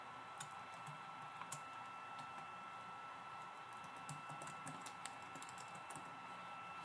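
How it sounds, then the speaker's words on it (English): Quiet, steady clicking of keys on a computer keyboard as a kick command is typed for a Minecraft PE server, light rapid taps close by over a faint hum, with no talk. "you're going to type in kick and then type in their name"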